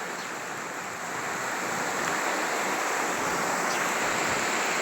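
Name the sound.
floodwater flowing after a cloudburst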